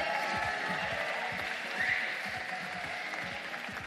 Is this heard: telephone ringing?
no